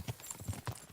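Horses galloping in a video game, a clear repeating clip-clop of hooves in an uneven rhythm, close and fairly loud, with no voices over it.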